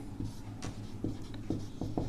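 Writing on a board during a class 10 geometry lesson: a series of short, faint scratchy strokes in an uneven rhythm, quiet and close, with no talk over them.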